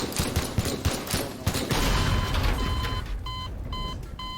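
Rapid gunfire in the voxel destruction game Teardown, dense bursts of shots followed by sharp repeating electronic beeps near the end, loud and close with no talking.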